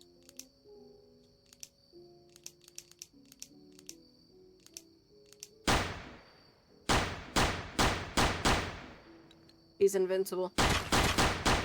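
Pistol shots in the video game Pistol Cat crack out in a loud rapid series of sharp bursts, preceded by quieter game blips and clicks, with a brief voice speaking before the firing.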